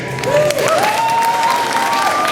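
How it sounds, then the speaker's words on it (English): A crowd at a school Christmas concert claps steadily for the teachers, a dense, even wash of applause with a gliding tonal whine over it. "a big round of applause for our teachers, Jennifer Fraser and Aju Varick"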